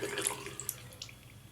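Water dumped from a shaving brush bowl splashes briefly and faintly, a short trickle and a few drips nearby with no talking.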